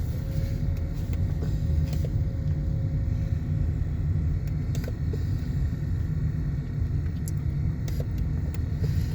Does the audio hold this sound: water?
no